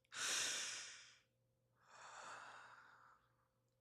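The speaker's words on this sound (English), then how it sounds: "Take a breath in your chest." Two slow, deep breaths drawn in near the microphone. The first is a strong, airy inhale, followed after a short pause by a softer, longer one, in an otherwise quiet room.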